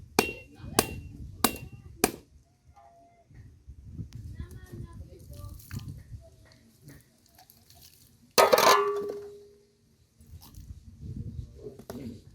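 Coconuts being cracked with sharp hard knocks in an African village kitchen: four loud strikes at the start, quieter scraping and tapping, then one heavy crack with a ringing tail later, close by, with talk throughout.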